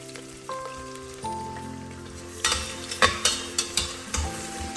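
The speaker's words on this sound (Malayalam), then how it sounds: "ഇതൊന്ന് ചൂടായതിന് ശേഷം അതിലേക്ക് സവാള ഇട്ട് കൊടുക്കുക. സവാള ഒന്ന് അത്യാവശ്യം നല്ല രീതിയിൽ തന്നെ വഴറ്റിയെടുക്കുക." Onions sautéing in hot oil with whole spices give a steady, close sizzle, and a run of sharp stirring scrapes and knocks grows louder in the second half. No one speaks.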